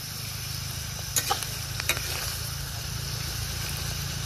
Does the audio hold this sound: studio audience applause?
no